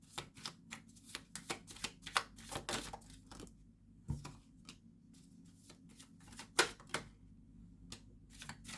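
Tarot cards being pulled and shuffled, with a quick run of crisp flicks and slaps that come in bursts, then fall quiet, then resume. Close and fairly soft, with no talking.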